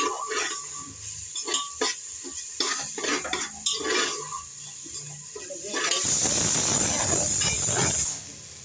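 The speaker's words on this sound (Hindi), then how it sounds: "ये देखिए, दलिया हमारी फ्राई हो रही है" Broken wheat frying in a pan, a sizzling hiss that swells into a loud steady rush for a couple of seconds near the end, preceded by scattered clinks and quieter kitchen sounds.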